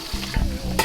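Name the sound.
shrimp frying and being stirred in a pan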